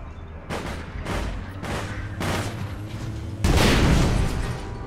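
Gunfire in APB Reloaded: four heavy shots spaced about a second apart, each a sharp boom with a short ringing tail, followed by a louder, denser burst near the end.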